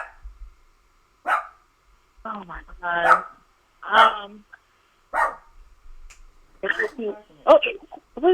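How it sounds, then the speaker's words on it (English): An angry dog barks in short, sharp bursts heard over a call, scattered among a voice as people talk through the sounds. "Oh, what is that, your dog?"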